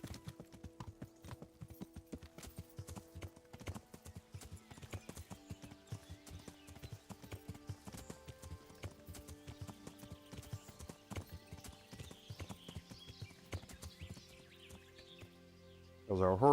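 Steady clip-clop of a horse's hooves in the video game Kingdom Come: Deliverance, a quiet rhythmic trot continuing throughout under soft game music, ending with a louder burst at the close.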